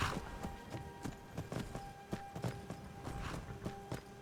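Horse hooves clip-clop steadily on the ground in Skyrim, a regular walking rhythm of sharp, close knocks at fairly low volume with no talking over them.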